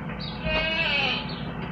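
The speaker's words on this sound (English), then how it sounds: "What up, goats?" Goats bleat near a delivery truck during a driver's stop, one long wavering cry that swells in the middle and then fades, heard close and fairly loud with no talk over it.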